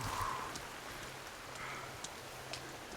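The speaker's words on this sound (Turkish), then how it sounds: "yağmur nasıl yağıyor benim?" Steady rainfall in the video game Sons of the Forest, with a soft hiss and scattered drops, continuous and moderately loud, with no voices.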